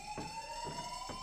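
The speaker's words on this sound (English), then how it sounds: "This is a fire alarm. Please remain calm." A fire alarm in the video game Who is Abby? sounds as a steady, shrill electronic tone with faint pulsing beats, fairly quiet and continuous across the short stretch, with no speech over it.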